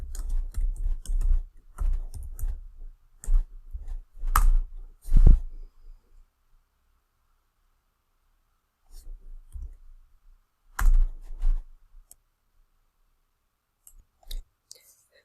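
Bursts of quick keystrokes on a computer keyboard, close and crisp, clustered in rapid runs with a long pause in the middle before more typing and a final tap.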